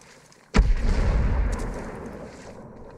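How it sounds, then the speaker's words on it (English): Frag grenade detonating in the tactical shooter Ghost Recon Breakpoint, a single loud sudden boom after a quiet moment, followed by a long rumbling debris tail that slowly fades. "Throwing a frag!"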